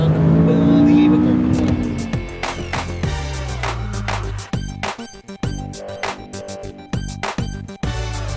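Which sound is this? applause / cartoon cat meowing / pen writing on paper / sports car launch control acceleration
sports car launch control acceleration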